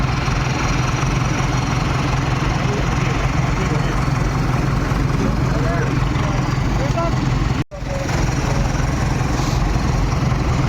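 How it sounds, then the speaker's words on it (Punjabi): Several tractor engines run together at a village fair, a steady low mechanical drone filling the whole stretch, with crowd voices mixed into the noise. "ਟਰੈਕਟਰ ਚੱਲ ਪਏ"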